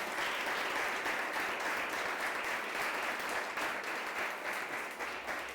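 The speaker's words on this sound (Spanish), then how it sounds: "Dale ese aplauso al Señor, no te quedes ahí." A church congregation claps together in sustained, dense applause, a steady wash of many hands at even loudness with no voices over it.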